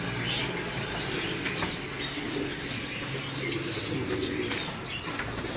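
Pigeons in a loft, with bursts of wing flapping over soft, continuous low cooing and occasional chirps, nearby and moderately loud, without speech.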